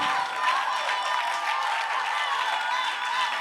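A church congregation claps and cheers together in acclaim of the Lord, a dense, continuous wash of applause that holds steady and full for the whole stretch with no pauses.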